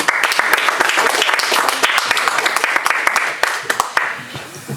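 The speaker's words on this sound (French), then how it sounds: "On applaudit Béatrice." Applause at a Paris inauguration event for a women's association, dense steady clapping from a crowd with a few sharper claps standing out, fading slightly toward the end.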